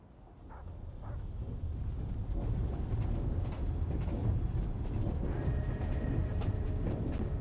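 A train rumbles along in Genshin Impact, a steady low-heavy roar with rattling that swells in after the first second and holds, with no talk.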